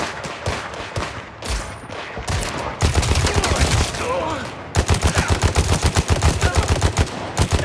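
Rapid gunfire fills a heist mission shootout in the video game Gangstar Mirage City, with scattered shots at first that grow into loud, sustained automatic bursts, dense and rhythmic toward the end.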